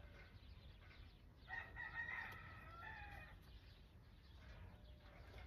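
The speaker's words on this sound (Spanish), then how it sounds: "A ver si se callan los gallos." Roosters crowing faintly in the distance, a couple of drawn-out calls rising over a quiet rural background with no talk.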